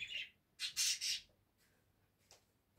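A pet bird indoors gives a few sharp, bright squawks, one short cry then a quick cluster of louder calls, followed by a fainter single chirp in a quiet room.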